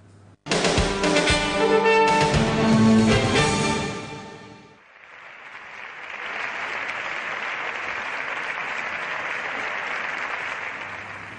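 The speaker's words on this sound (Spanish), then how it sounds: "el Partido Popular y Ciudadanos aplaudían tras el debate sobre esta pena en el Congreso de los Diputados" Deputies in the Spanish Congress of Deputies burst into loud, dense applause that runs for about four seconds, then give way to a steady murmur of the chamber.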